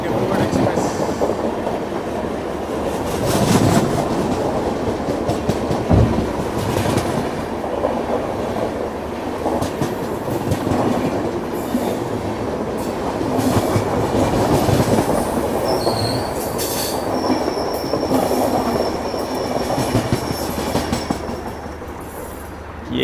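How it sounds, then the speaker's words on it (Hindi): The Chandigarh–Dibrugarh Express runs past on its rails toward Assam with continuous rumbling and rhythmic wheel clatter, punctuated by metallic squeals, steady and fairly close for over twenty seconds. "चंडीगढ़ डिब्रूगढ़ एक्सप्रेस।"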